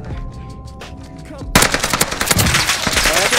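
Gunfire in Call of Duty Warzone on the Caldera map: quieter game sounds at first, then sudden loud bursts of rapid automatic fire with sharp cracks that continue densely to the end.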